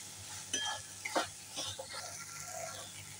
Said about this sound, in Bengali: মটরটা দিয়েও ভালো করে ভেজে নেবো।